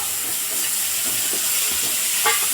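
Chopped tomatoes dropped into a pan of frying onions and chillies for tomato coriander pickle, giving a steady bright sizzle with soft stirring scrapes and a brief clink near the end, with no voices.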